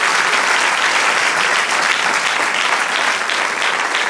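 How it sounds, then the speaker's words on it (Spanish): A church congregation applauding during a sermon, dense and loud sustained clapping that fills the whole stretch evenly with no break. "Denle otro aplauso al Señor."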